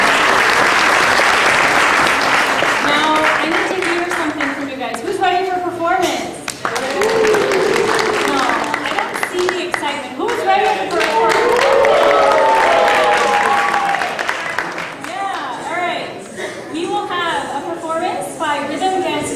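Sustained audience applause fills a cultural stage event honouring Lord Mahavir's message of non-violence, a dense wash of clapping that swells and dips slightly while a voice speaks faintly underneath.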